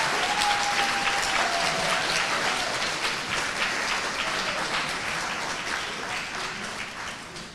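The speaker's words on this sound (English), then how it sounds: "Please join me in recognizing, through applause, Bart Weiss from the University of Texas" Banquet audience applauding at an award ceremony honoring a life membership recipient, sustained crowd clapping that stays full and even before slowly tapering, with a faint tone briefly audible underneath.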